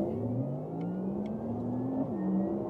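A Porsche Taycan facelift, rear-wheel-drive electric car, pulls a launch-start acceleration, its motor whine rising steadily in pitch under constant road and tyre noise, close and fairly loud.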